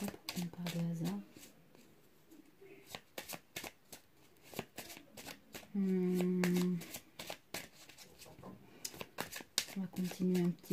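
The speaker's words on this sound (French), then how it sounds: "On va tirer un peu plus de cartes." Playing cards being shuffled for a tarot-style card reading, with repeated crisp riffling bursts close up, interleaved with someone speaking French between shuffles.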